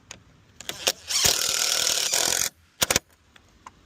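A power tool gun whirs in one loud burst of about a second and a half while fastening a Bestop SunScreen on a Jeep, framed by scattered clicks and knocks.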